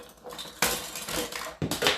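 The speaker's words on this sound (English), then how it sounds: "There goes my knife." A metal painting knife falls and clatters against a hard surface, two sharp close clanks about a second apart, with a metallic rattle between them.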